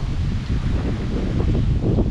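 Strong wind buffeting the microphone while pike fishing, a continuous low rumbling roar with gusty fluctuations and no voices.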